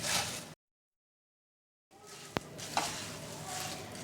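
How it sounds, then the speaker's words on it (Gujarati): Roasted puffed rice is stirred into a spiced papad mixture in a pan, producing a soft rustling, sizzling texture broken by a silent gap and a couple of sharp clinks from the utensil. "મમરા નાખ્યા બાદ બધું સારી રીતે મિક્સ કરી લેવાનું છે"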